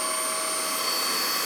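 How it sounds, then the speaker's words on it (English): An APOSEN 18Kpa handheld cordless vacuum cleaner runs in a steady, high-pitched whine with a constant airy hiss, close and unbroken, with no speech. "I mean, it's not quiet because it is a vacuum."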